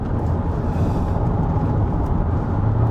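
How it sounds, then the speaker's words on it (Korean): Hyundai Avante Hybrid taking a corner at speed, heard as a continuous low road and tyre roar with wind noise from inside the cabin, steady and moderately loud, with no voices. "자, 속도를 좀 쭉 끌어올려서 코너링에 도전을 합니다."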